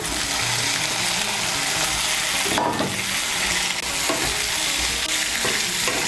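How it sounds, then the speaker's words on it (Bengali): Long ridge gourd strips stir-fried with spice paste for a Bengali fish curry, a steady close sizzle broken by scraping spatula strokes and a louder clatter near the middle. "মিশিয়ে নিয়ে আঁচটাকে বাড়িয়ে ঝিঙেটাকে মশলার সঙ্গে ভালো করে কষিয়ে নেব"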